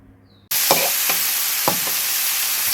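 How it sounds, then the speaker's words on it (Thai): Sudden loud sizzle as shallots, garlic and chillies hit a hot wok, followed by continuous frying hiss with a few scraping stirs of a spatula. "ผัดหอมกระเทียมพริก"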